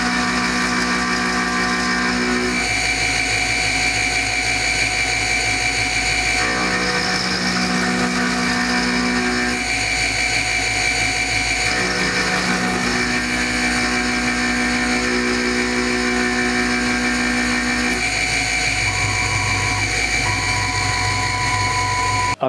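Steady high-pitched whine of a milling machine cutting with a high-speed steel 3-flute 6mm ball end mill, loud and continuous with tonal shifts as the cut changes.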